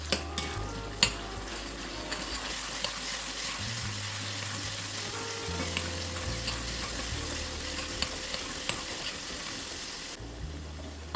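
Ginger, garlic, coriander and chili paste sizzles in a pan for matki bhaji, with a spoon stirring and scraping the metal pan in steady intermittent strokes under the soft continuous frying hiss, close and fairly quiet.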